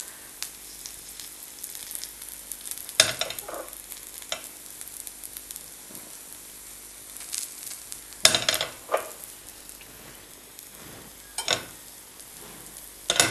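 Papdi for chaat frying in a little oil on a nonstick pan, a continuous close sizzle with intermittent scraping and stirring sounds and a few sharper utensil taps.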